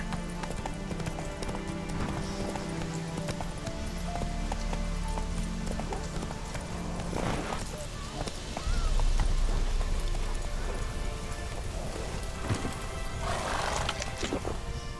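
The horse Roach gallops in The Witcher, a steady run of hoofbeats under a dense game soundscape of crackling, rumbling ambience, with a louder surge partway through and faint voices mixed in.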